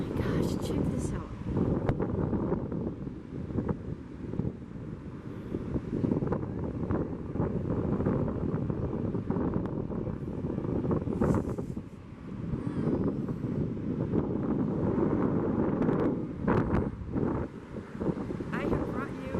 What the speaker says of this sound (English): I'm hoping you can hear me because it is a little windy.